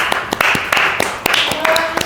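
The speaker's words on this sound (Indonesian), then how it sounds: "Tepuk tangan untuk Minok, tepuk tangan gak bercanda" A podcast audience claps for Minok, a talent manager, with sharp scattered claps over steady talking.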